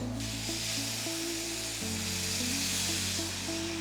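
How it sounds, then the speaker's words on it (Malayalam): Tamarind water hits hot oil in a pan for ginger curry, giving a loud, continuous hiss and sizzle of frying that holds steady throughout, with faint stirring and no talk. "ഈ പുളി പിഴിഞ്ഞ വെള്ളം ഇതിനകത്തേക്ക് ചേർക്കാം."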